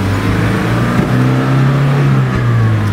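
A right-hand-drive 1995 Nissan D21 Datsun fire truck pulling away in low gear, its engine rumbling loud and close with a steady droning note that rises slightly as it drives off.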